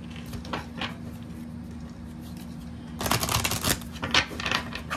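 Soft tarot card handling and light flicks, then a burst of rapid riffling as the tarot deck is shuffled, with scattered snaps afterward; no talking.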